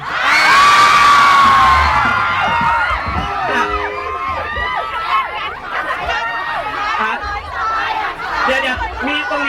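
A crowd of students cheers for their school at a teen contest, with loud shouts, whoops and excited chatter that peak at the start and stay busy and close, with voices talking over it.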